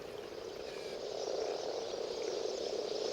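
Frogs croak in a steady, dense chorus from small pools formed where a wetland stream overflows, their spring mating calls layered over a constant hum with no voices.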